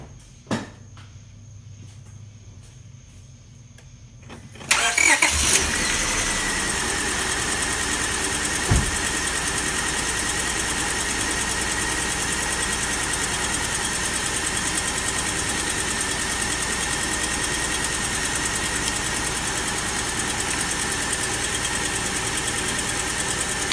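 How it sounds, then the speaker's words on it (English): A V6 car engine cranks and catches after a quiet start, then idles steadily and a little chuggy for the rest of the clip, close and loud with no talking. "I've never heard this engine run. It is a V6. It sounds a little chuggy."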